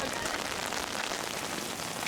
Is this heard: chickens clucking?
no